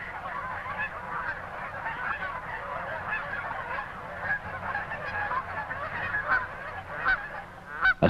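Flock of Taverner's cackling geese honking continuously in the Pacific Northwest, a dense chorus of overlapping calls at moderate distance with no talk.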